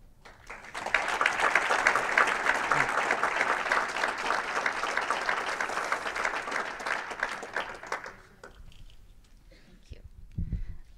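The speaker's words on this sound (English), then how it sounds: "Give them a round of applause again, guys." An audience at an education talk about residency teaching programs claps loudly and evenly for several seconds, then the applause fades into quieter room noise with a few scattered claps near the end.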